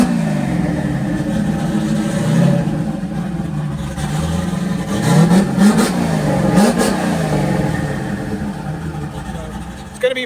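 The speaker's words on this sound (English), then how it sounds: "you can hear really well how quick that turbo spools" A turbocharged drag car's engine revs in short bursts while being loaded into a trailer, each blip swelling with a rising turbo spool whine over a steady idle rumble, close and fairly loud.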